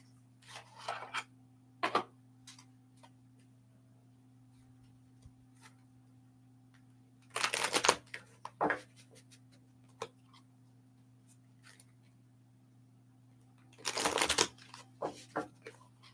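Archetypes Oracle deck cards are shuffled in a quiet room, giving short bursts of soft riffling and slapping at intervals, with faint taps and a low steady hum between them.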